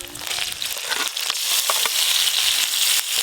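Ground spice paste of tomato and onion hitting hot oil and frying in a village-style kitchen, a bright continuous sizzle and crackle that builds and holds steady.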